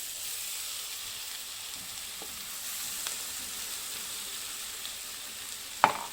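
Ground masala paste sizzles and fries in a pan for a vaam fish bhaji, a steady soft crackle with occasional light stirring clicks and a sharper scrape near the end; no talking.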